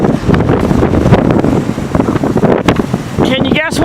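Wind gusting across a closed highway east of Kincardine during a January snowstorm with blowing and drifting snow, a loud steady roar buffeting the microphone throughout, while someone talks over it.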